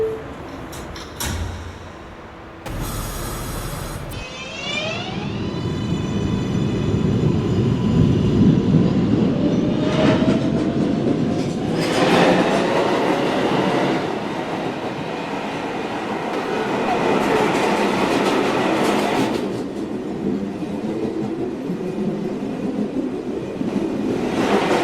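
An R142A New York subway 1 train heading toward Manhattan hums and whines as it pulls away and runs, with rising motor tones, rattling wheels and track noise building and fading, loud and close inside the car.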